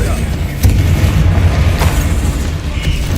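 Heavy booming spell blasts in the wizarding game Hogwarts Legacy, a dense rumbling explosion with a sharp burst and lingering low roar, with a voice talking over it.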